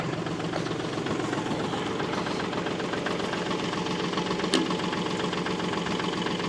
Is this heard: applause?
no